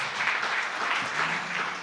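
Church congregation applauding during a sermon on fasting, a short, fairly soft burst of steady clapping heard from a distance in a reverberant hall.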